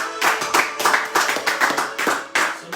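Congregation in a church clapping together in a steady, rhythmic beat, loud and close, with no talking over it.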